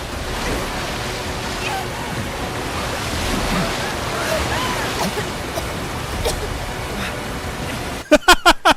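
River water rushing in Final Fantasy VII Rebirth, a continuous broad wash of moving water that stays steady throughout, with a few sharp knocks at the very end.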